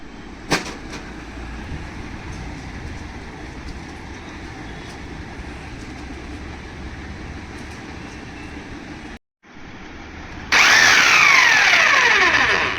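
A Bosch demolition hammer runs after a connecting rod repair, giving a steady, close mechanical rattle and drone, then a brief cutout and restart before it rises into a louder, higher-pitched hammering whine toward the end.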